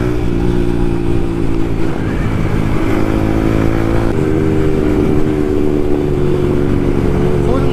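A Yamaha MT-15 motorcycle fitted with an Akrapovic carbon exhaust, no dB killer, riding at night on Delhi roads, its steady loud engine drone holding at a constant pitch close to the microphone throughout.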